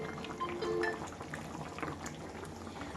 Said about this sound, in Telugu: చేపల పులుసు ఉడికిపోయింది చాలా వరకు.